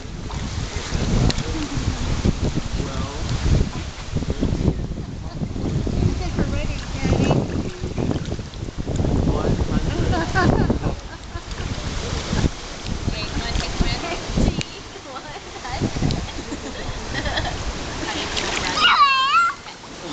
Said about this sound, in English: Swimming in the pool.